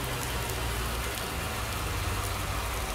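Rain falls steadily in a farming simulator video game, a dense, even hiss of drops with no break and no one talking, heard alone.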